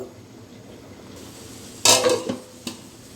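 A plate is set down over a pot of cooking dal, giving a sharp metallic clatter followed by a couple of smaller clinks after a quiet kitchen background.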